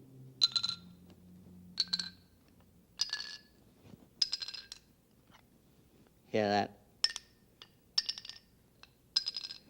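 A set of tuned vibrating bars, one of them slightly out of tune with the rest, is struck in a steady sequence of about nine bright ringing notes, with one harsher buzzing strike midway. Someone speaks briefly.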